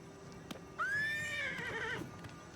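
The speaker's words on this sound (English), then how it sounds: "Can I ride my horse?" A horse whinnies in a video game, one loud, drawn-out neigh of about a second with a wavering tail, close and clear against a quiet background, after a brief click.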